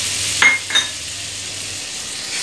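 Butter heats in a hot kadai for a Punjabi dal makhani tempering, giving a steady soft sizzling hiss with two brief utensil knocks near the start and no talking.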